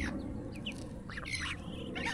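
Geese newly bought for a backyard pen honk and squawk in short bursts over constant outdoor ambience, with a few brief calls spaced across the moment.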